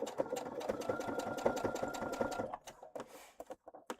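A sewing machine stitching fabric runs in a quick steady mechanical whir with rhythmic needle clicks. It then stops and a few faint taps and handling noises follow.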